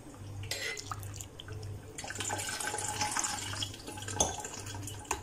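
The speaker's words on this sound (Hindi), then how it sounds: "अब हम इसमें पानी डालेंगे 1 ग्लास" Water poured from a glass into a thick homemade sherbet mixture, a steady splashing pour over a soft low hum, fairly close, lasting several seconds with a brief clink near the end.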